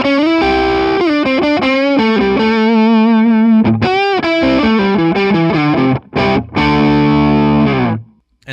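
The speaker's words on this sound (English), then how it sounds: "Now let's hear some crunch tones." Epiphone Slash Les Paul Standard electric guitar on its neck pickup with a crunch tone, playing loud sustained distorted chords and riffs with a couple of brief gaps before the final chord rings and fades out.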